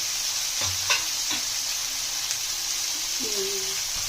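Onions and tomatoes stirred while frying in a pan for a radish paratha side, a soft steady sizzle with a few scraping stirs of the spoon, close and quiet, no voice.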